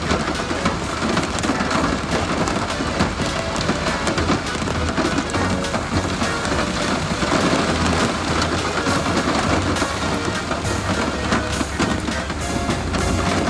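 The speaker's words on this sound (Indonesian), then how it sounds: "Di sini hujan guys, di sini hujan." Steady rain falls outdoors in a loud, continuous wash with dense patter throughout, and no talking stands out over it.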